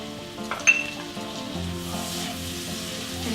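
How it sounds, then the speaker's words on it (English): Minced garlic hits a hot pan on a gas stove, a sharp clink and then a steady close sizzle with light stirring scrapes. "We'll add in our minced garlic"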